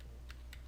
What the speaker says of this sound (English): if I actually type in here http and then we'll type in